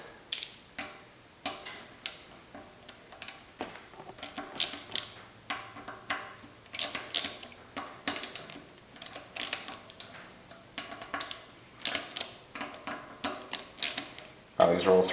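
A T25 Torx driver ratchets rapidly while loosening the brake rotor bolts on a Cannondale Moterra SL mountain bike, producing a steady run of close, crisp clicking ticks in quick bursts throughout.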